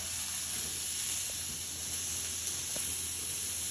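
A steak cooks in a pan on turned-down heat, giving off a steady, even hiss of steam and sizzle, continuous and moderately loud with a faint tick or two and no talk.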